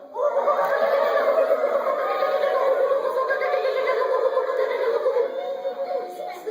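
A roomful of children imitate kookaburra calls all at once, a loud, continuous chorus of whooping, cackling voices lasting several seconds.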